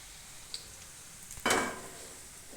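Onion bhajiya fritters frying in hot oil are flipped, setting off a sudden loud burst of sizzling that slowly fades back to a quiet bubbling, with a faint clink near the end.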